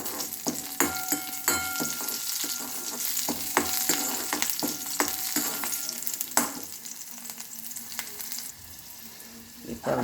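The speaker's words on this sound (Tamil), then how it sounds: "கொஞ்சம் வதங்கட்டும்." Chillies sautéing in a pan for a Karnataka-style neer chutney, a steady close sizzle broken by repeated spatula scrapes and stirring clatter throughout.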